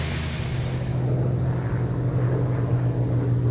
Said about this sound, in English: This is the sound of my childhood dream, really, these big engines coming over our village in Oxfordshire